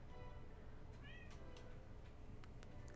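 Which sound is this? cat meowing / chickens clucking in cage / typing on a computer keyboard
cat meowing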